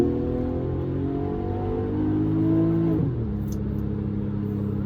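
A 2003 Porsche 996 Turbo accelerating hard in a street race against an Audi S5, a loud engine drone climbing steadily in pitch, dipping briefly at a gear change, then pulling on, heard from inside the car.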